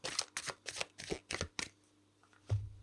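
Tarot cards are shuffled by hand in a series of quick, soft riffles and flicks, about seven close bursts in a row followed by a pause and a final dull tap, with no talking.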